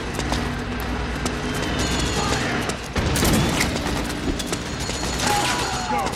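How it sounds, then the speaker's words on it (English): Dense battle noise from Metal Gear Solid 4 as a power station is blown up, with rattling gunfire and a heavier blast near the middle, continuous and loud throughout. "time to blow that power station"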